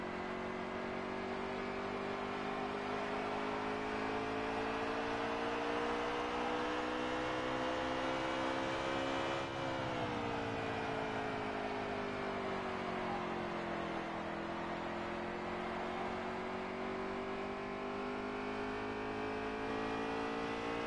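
Xfinity stock cars race at New Hampshire with a steady, loud engine drone that rises and falls in pitch as the field runs laps, continuous throughout with no talk.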